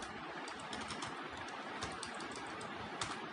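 Typing on a computer keyboard: quiet, irregular key clicks over a low, noisy room hum, with no talking.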